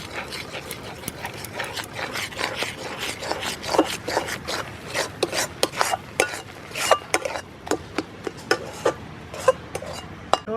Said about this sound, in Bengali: এবার আমি সুজিটা দিয়ে দেব এইভাবে দেব আর এইভাবে নাড়তে থাকবো